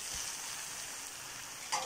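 Textured vegetable protein giniling, a ground-meat-style dish, being mixed in a hot pan, giving a steady close sizzle with soft stirring scrapes and no voices.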